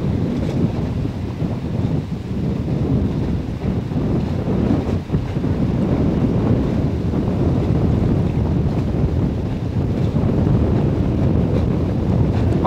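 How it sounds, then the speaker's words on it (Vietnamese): Steady wind gusting across open water near a small boat, a constant broadband rush with buffeting on the microphone throughout and no voices. "Đây gió cũng lăn tăn lên này các bạn."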